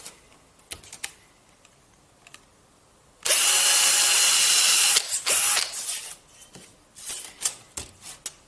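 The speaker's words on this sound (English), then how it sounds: "I'm gonna now drill here in the middle of this line" A power drill runs loudly and steadily for about two seconds as it bores a hole, preceded and followed by sporadic clicks, taps and handling knocks, no talk.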